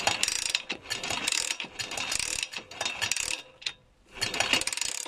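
Kymco KPW50 2017 motorbike being kick-started, with a loud, ragged mechanical clacking and rattling from the engine that repeats in uneven bursts. One brief quiet gap falls near the end. The engine is suspected of a faulty gear or of valves striking the pistons.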